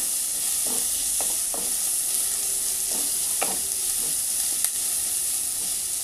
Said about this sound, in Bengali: দিয়ে আমি সবজিটা নাড়াচাড়া করে নেব মশলাটা